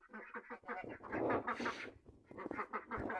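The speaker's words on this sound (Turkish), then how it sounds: "ördeklerimiz de kazlarımız alındı" Ducks and geese newly brought to a farm quack and honk in a busy overlapping chorus, close and fairly loud, with no pauses.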